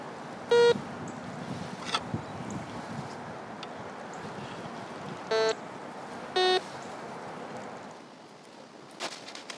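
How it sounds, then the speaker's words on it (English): An OMMO metal detector at max sensitivity gives three short tonal beeps at irregular intervals, likely from tinfoil and pop tops, over steady wind and outdoor rumble. "All those little beeps are like tinfoil and pop tops."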